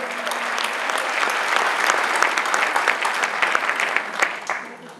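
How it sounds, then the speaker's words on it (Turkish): An audience at a music society's centenary concert in Giresun applauds steadily for several seconds, dense and fairly close, with faint voices mixed into the clapping. "Alkışlarınızla Hüseyin Kılıççı."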